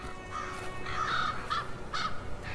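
Crow or raven in the far-northern winter giving a series of harsh caws, about four or five calls at irregular intervals, moderately near against a quiet background.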